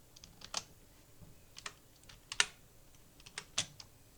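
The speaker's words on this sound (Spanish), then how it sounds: "va a hundir Shift y va a hundir seno" Shift and sine keys pressed on a calculator while setting up a trigonometry exercise: a sparse series of soft, quiet clicks spaced irregularly, with a few slightly louder taps standing out against a near-silent background.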